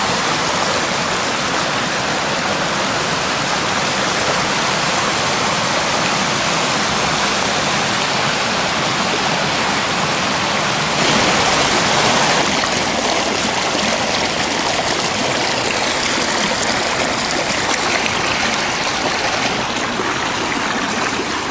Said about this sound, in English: Cross over the raging river